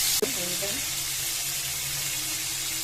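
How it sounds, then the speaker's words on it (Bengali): Bagda tiger prawns fry in hot oil with a loud, even, close sizzle that fills the whole span, opened by a brief clink and a short voice at the start. "এখন আমরা চাচা ভাস্তা বাগদা চিংড়ি ভাজি করব"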